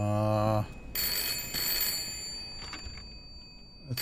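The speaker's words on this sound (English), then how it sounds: "It's the phone. I think it's for you again." Old telephone ringing in the horror video game Layers of Fear, a loud tonal ring at the start followed by a brighter electronic ringing tone and fainter game noises.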